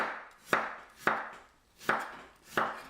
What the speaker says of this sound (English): now I'm going to cut my last vegetable, is little red radish